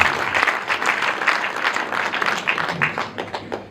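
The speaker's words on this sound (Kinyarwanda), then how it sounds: "ugushimire ugukomera amashyi" Wedding guests clap together in loud, steady applause at a Rwandan bride-giving ceremony. Dense individual claps come through clearly, and the clapping carries on evenly with only slight dips before trailing off.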